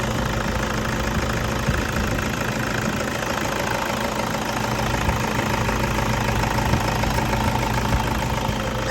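A 2005 Toyota Vigo pickup's 2500 engine runs at a steady idle, a constant low rumble with a faint ticking knock throughout, close and unbroken with no talk.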